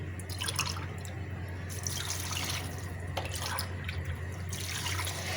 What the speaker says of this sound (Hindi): हांडी में डालने के बाद इसमें तकरीबन 10 कप इतने पानी डालूंगी मैं